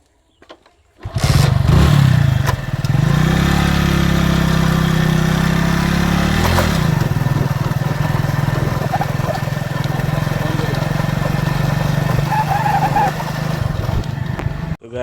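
A motorcycle engine cranks and catches with a loud start, then settles into a steady, rumbling idle that runs close by for over ten seconds, with some background noise mixed in.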